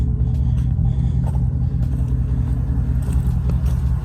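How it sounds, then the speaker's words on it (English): A Chevy Silverado engine idles with a steady, loud low rumble, and a very faint lifter tick sits underneath it. No one speaks. "I hear like a small lifter tick."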